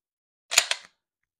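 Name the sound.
pistol empty magazine dropped and new one inserted, dry fire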